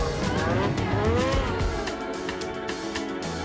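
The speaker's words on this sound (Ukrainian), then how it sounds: "Снігоход тягне лижника вгору швидше ніж 130 кілометрів за годину." A snowmobile racing across snow while towing a skier at high speed, its engine whining and shifting pitch up close, with brief sharp noises breaking through the roar.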